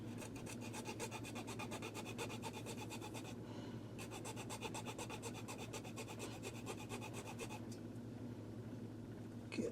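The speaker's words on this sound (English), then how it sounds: "Try to extract it via the hacksaw." A hacksaw cuts a gear out of a vintage Intermatic D111 timer in fast, steady rasping strokes that run close and continuous, with a brief pause partway through.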